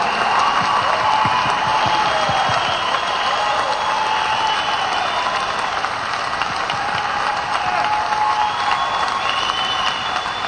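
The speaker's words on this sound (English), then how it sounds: "They weren't clapping for me just then?" An audience at a political jobs rally in Ohio claps and cheers steadily, a dense, loud wash of applause that holds for the whole stretch without a break.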